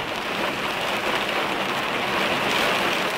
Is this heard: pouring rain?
yes